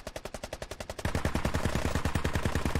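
Rapid automatic gunfire in the military shooter Squad, a steady string of sharp shots that grows denser and louder after the first second, with no talk over it.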